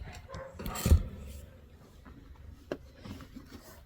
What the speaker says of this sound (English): All I can hear are the dogs barking